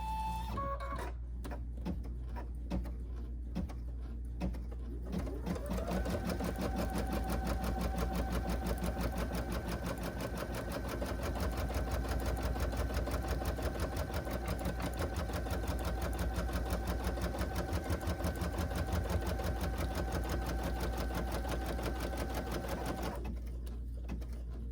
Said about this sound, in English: we are going to stitch right on top of it